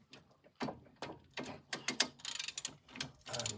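A ratchet on an extension works a rusty wheel hub bolt, giving bursts of rapid close clicking with short pauses between strokes and no talk.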